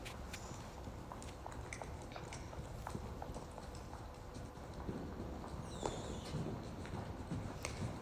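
A horse lopes during saddle training, its hooves striking the ground in a soft, steady rhythmic clip-clop, fairly faint and somewhat distant, with no voices.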